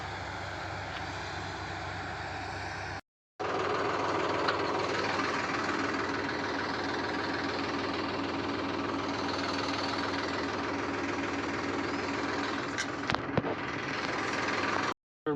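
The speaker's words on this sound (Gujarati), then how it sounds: "જાય છે આપણું ટ્રેક્ટર લઈને" A farm tractor runs with a steady, droning, slightly knocking engine rumble at moderate distance, continuous apart from a short cut early on, with a few sharp clanks near the end.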